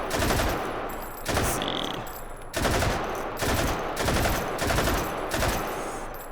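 An RPD machine gun fires in the VR game Hot Dogs, Horseshoes and Hand Grenades: about six loud, close bursts of rapid automatic fire separated by brief pauses.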